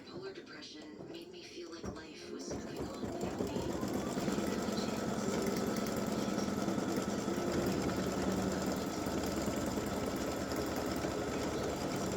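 An embroidery machine runs a tack-down line in silver thread over an appliqué fabric placement, starting up after a couple of seconds and then humming and rattling steadily and closely, with talk over it.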